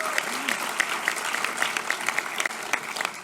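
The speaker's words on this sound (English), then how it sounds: "How about a huge round of applause for softball?" Applause from a scholarship night audience in a school gym for the high school softball team, a steady patter of many hands clapping with some distinct individual claps, moderately close.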